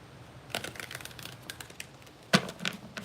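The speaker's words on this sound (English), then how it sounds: "Let's pull some Romance Angel cards." Romance Angel oracle cards are shuffled and pulled, giving soft, quiet riffling and flicking taps with one sharper snap near the end.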